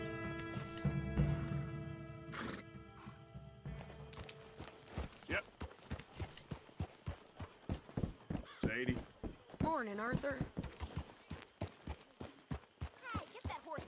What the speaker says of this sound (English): Hey, get that horse out of here.